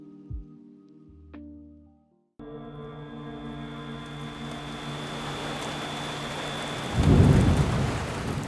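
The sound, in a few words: rain and thunderstorm sound effect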